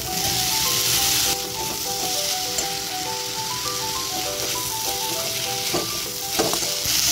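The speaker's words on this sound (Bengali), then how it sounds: "এবার আমি টমেটো কুচিটা দিয়ে দিচ্ছি।" Chopped tomato hits hot oil with ginger-garlic paste in a pan, giving a steady, fairly loud sizzle throughout with a few brief stirring scrapes near the end, no talking.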